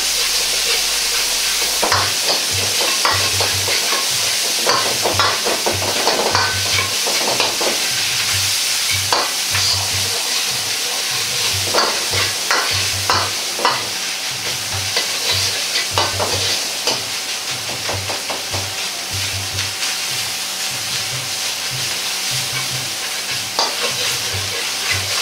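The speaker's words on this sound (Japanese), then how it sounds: "完全にひき肉の色が変わったら生姜を入れ炒めます。" Minced pork stir-frying in a pan, a continuous crackling sizzle with repeated scraping and tossing of a spatula at a steady rhythm, loud and close throughout.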